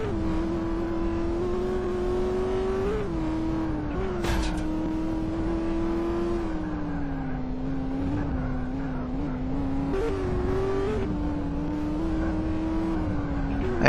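A race car in the Speed Dreams video game drives and drifts, its engine holding a continuous droning whine that rises and dips in pitch, with a few brief scraping bursts over the steady motor.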